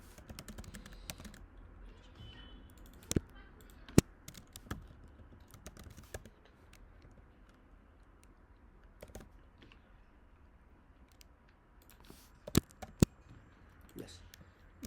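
Keys clatter on a computer keyboard while HTML code for an Angular component is typed, irregular soft clicks with a few sharper louder strikes scattered through a quiet room.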